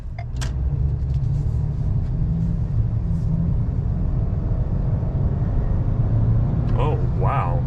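2022 Ford Maverick XLT with the 2.0 AWD engine accelerating hard, a steady low engine drone that swells near the end under continuous road noise inside the cabin, with a voice speaking over it.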